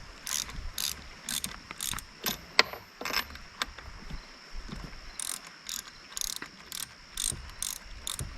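A ratchet loosens spark plugs on a Yamaha 15hp outboard motor, giving close, rapid clicking bursts in irregular spurts with short pauses between them.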